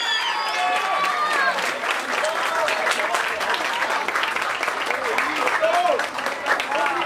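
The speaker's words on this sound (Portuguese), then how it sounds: "Palmas, palmas pra batalha aí" An audience at a rap battle claps loudly and continuously, a dense wash of applause with cheering voices and a few shouts mixed in.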